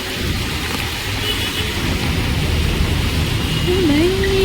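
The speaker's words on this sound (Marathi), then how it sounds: "सारखी कंटिन्यू पाऊस पडून" Heavy rain pours continuously in Navi Mumbai, a dense, even roar of water with no breaks, loud and close, with a faint whistling tone near the end.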